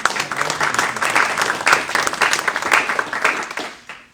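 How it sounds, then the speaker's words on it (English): Audience at a Kechi city council meeting applauding, steady, even clapping from a room of people that lasts about four seconds and fades out at the end. "I would like to have everybody give him a round of applause."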